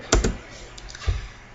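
A few key presses on a computer keyboard while entering a number into a running C++ program, a quick pair of close clicks followed by a single later tap, fairly quiet with no talking.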